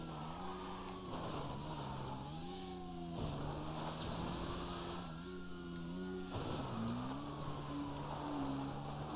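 Motorbike engine in GTA Online, revving steadily with stepped gear changes and pitch sweeps, fairly loud and continuous across the stretch.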